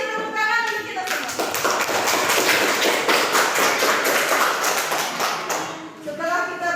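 A classroom of students clapping together in a long burst of dense, sharp hand claps that swells and then fades, with a teacher's voice speaking before and after.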